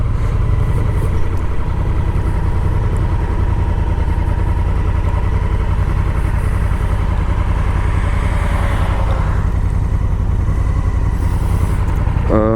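A Honda Africa Twin motorcycle being ridden, its engine giving a steady, close, continuous drone throughout, with a few faint rises and brief mechanical clicks near the end.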